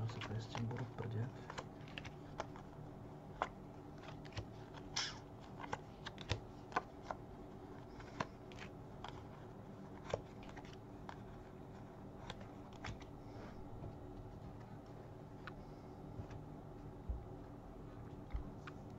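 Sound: shuffling tarot cards

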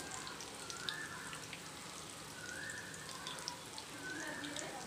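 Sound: chicken frying on medium flame in a pan

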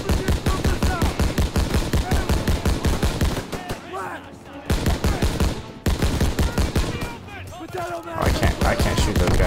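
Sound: gunfire in video game Call of Duty WW2

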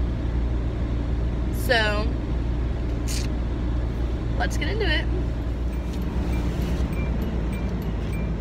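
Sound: car running loudly while defrosting

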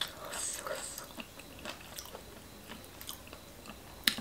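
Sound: chewing and eating spicy Thai khanom chin papaya salad

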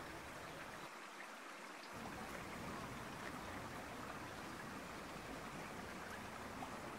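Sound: River Wye flowing in fast at high tide

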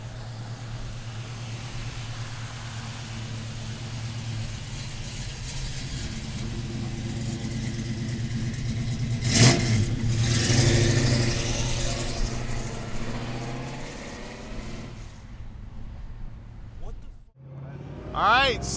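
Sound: 1967 Chevrolet Chevelle convertible big-block engine driving

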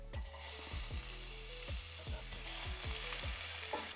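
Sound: onions frying in hot oil in a pan

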